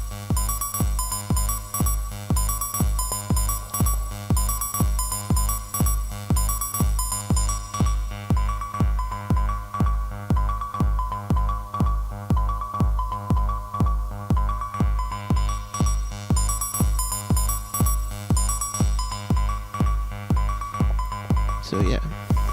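Behringer Neutron synthesizer patch running two independent voices through a shared filter and delay, a steady pulsing sequence of bass notes with bright upper tones repeating evenly throughout, loud and close.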